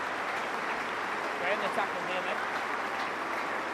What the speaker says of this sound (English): sympathetic applause from both sets of supporters for the French international